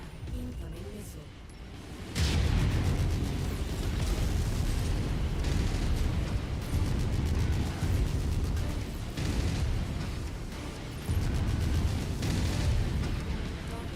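Incoming missiles exploding in MechWarrior 5, a quiet start that gives way to loud booming blasts and rumbling impacts in dense repeated bursts, with brief talk mixed in.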